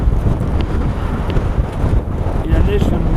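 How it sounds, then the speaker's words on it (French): Strong winter wind sweeps across open snowy ground on a -9°C winter hike, roaring continuously and buffeting the microphone in heavy low gusts for about three seconds. "la surface du sol est vraiment balayée par le vent"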